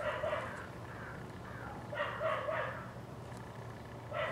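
Several dogs bark in short bursts somewhat off in the distance during a Honda Dio scooter painting project, with a low steady hum running underneath and no talk.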